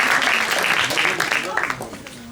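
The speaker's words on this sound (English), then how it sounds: "I think it's worth an applause" Audience applause at the opening ceremony of a Nordic Palestinian film festival, a dense burst of many hands clapping that fills the room for about two seconds, then thins and fades slightly toward the end.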